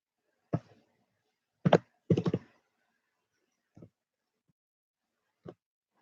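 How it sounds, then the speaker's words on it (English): Scattered keystrokes on a computer keyboard, a handful of separate clicks and a quick double tap spaced irregularly across a quiet room, with no voices. "You guys can probably hear me typing"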